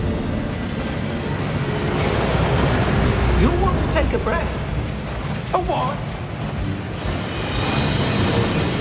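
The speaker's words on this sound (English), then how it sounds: "That waterfall washes away all enchantments." A waterfall in the video game Hogwarts Legacy rushes as a dense, loud, continuous roar filling the scene, with characters talking briefly over it.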